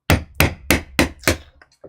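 Five sharp, evenly spaced hammer blows ring out loud and close, each strike snapping with a bright metallic crack, then a few faint clinks trail off at the end.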